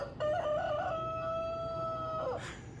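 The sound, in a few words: person imitating a rooster crowing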